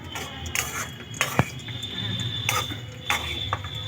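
A utensil stirs semolina with ghee in a pan, with close scrapes and metallic clinks at uneven intervals over a steady sizzling hiss.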